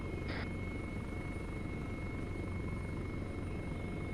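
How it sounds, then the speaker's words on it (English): A helicopter drones steadily at a moderate distance, its constant rotor and engine noise filling the background without letup, with no talking heard. "Mission lead, Raven, recommend you start shooting the helicopter"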